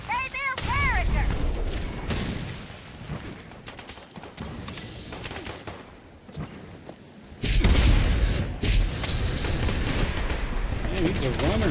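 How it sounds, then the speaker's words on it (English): Fallout 76 combat brings repeated explosions and bursts of rapid gunfire, loud and near, coming in waves with short lulls, while whistling and chirping effects rise between the blasts. "Don't worry about all these explosions."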